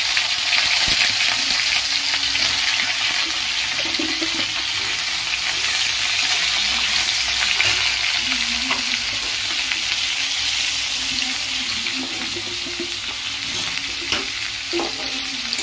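Fish curry with cauliflower cooks in a pan, a loud steady frying sizzle filling the whole stretch with occasional soft stirring scrapes and no talk.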